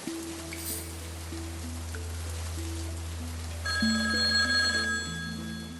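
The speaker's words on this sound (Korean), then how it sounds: "전화." An old-fashioned telephone bell rings in steady repeated bursts inside an antique shop on a rainy afternoon, with rainfall hissing in the background and the ringing growing louder partway through.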